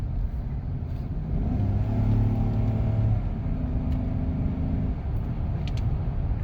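A 5.3-liter Vortec V8 in a 2014-2020 GMC Sierra/Silverado pickup fitted with an S&B cold air intake revs up, heard from inside the cab with windows closed: a steady low exhaust rumble swelling in the middle, then settling.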